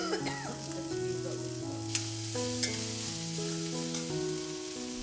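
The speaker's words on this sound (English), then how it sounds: "Fry until everything is well cooked." Onions, garlic and ginger fry in oil with a steady, close sizzle for about five seconds, a couple of sharp scrape or stir knocks cutting in over the hiss; no one speaks.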